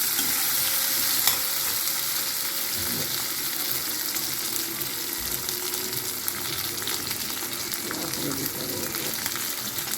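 Onion and tomato sauté in sesame oil in a pan for pirandai chutney, giving a steady close sizzle with occasional stirring scrapes and some watery splashing underneath.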